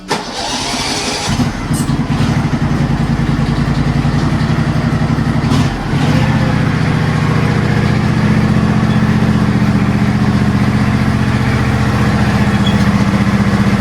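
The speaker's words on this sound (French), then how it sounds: "Et puis, on charge ce petit tracteur tondeuse." A small riding lawn mower tractor engine runs steadily at a loud, close idle, with a brief dip near the start as it is loaded onto a trailer.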